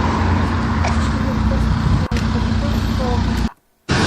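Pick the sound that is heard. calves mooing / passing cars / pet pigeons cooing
passing cars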